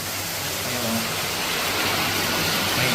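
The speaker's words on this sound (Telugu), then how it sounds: "ఇక్కడైతే వాటర్ సౌండ్ వస్తుంది నాకు." Water of the Patala Ganga stream rushes inside the Belum Caves, a steady, dense hiss of flow that stays even and fairly loud throughout, with no other clear sounds.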